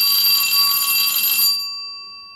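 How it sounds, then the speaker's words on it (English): A bright metallic bell is struck once, ringing clearly and alone before its tone fades away with a long sustained decay, marking the opening of a podcast. "let's ring the bell"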